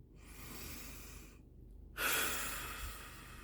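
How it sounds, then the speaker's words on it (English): Slow, deep breaths close to the mic: a long airy inhale, a brief pause, then a fuller exhale, soft and unhurried with no talking. "So breathe in, breathe out."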